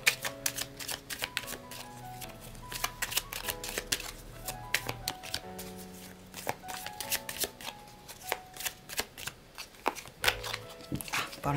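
Oracle cards being shuffled in a tarot-style reading, a steady run of crisp card riffles and slaps under soft background music, with no one talking.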